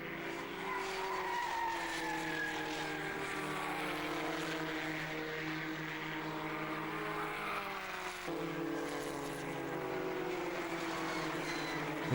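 A Van Diemen RF85 Formula Ford race car sweeps past at Mallory Park, its engine note rising and falling with a Doppler-like sweep, loud and sustained over a steady background roar, with a brief shift in pitch midway.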